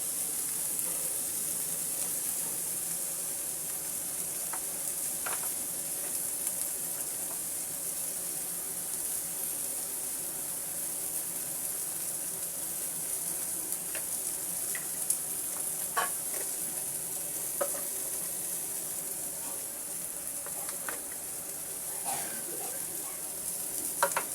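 Papaya fries with coriander powder in a pan, a steady bright sizzle running throughout while a spatula stirs it with scattered light scrapes and taps, nearby with no voices.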